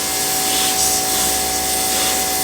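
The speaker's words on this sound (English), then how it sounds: "let's see if this stuff will finally blast off with the pressure washer now" A pressure washer blasts plasti dip off a car wheel on an old Lexus, a loud, steady, broadband hiss and roar of spraying water that holds close and constant without a break, with no talking.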